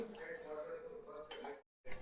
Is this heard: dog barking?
no